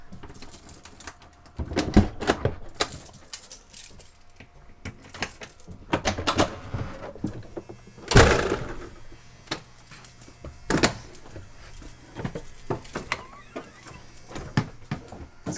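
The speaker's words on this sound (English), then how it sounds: "was deploying the flipper doors." A series of mechanical clunks, rattles and thuds, some sharp and loud, as BART train car flipper doors deploy, with quiet stretches between the bursts.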